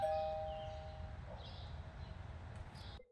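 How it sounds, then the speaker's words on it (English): A doorbell chimes faintly in the video game Beyond: Two Souls, a soft two-tone ding-dong over a low rumbling background, brief and distant-sounding, with no talk. "Doorbell."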